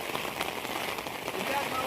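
Steady rain patters on surfaces outdoors during a prolonged heavy downpour that has begun to ease, a dense even hiss of drops throughout the short stretch.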